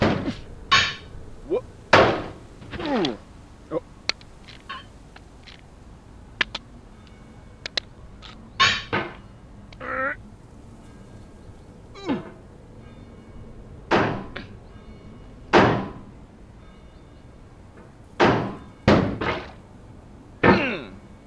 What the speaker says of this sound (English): I think anger makes you swing the hammer harder, and that can push you away from the wall